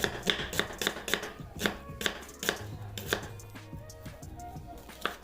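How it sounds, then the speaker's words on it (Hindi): An onion sliced thin with a knife on a board, a quick run of crisp chopping strokes that slows and thins toward the end, close by and alone. "तो इस तरह आपने इसकी थिन स्लाइस कटिंग कर लेनी है।"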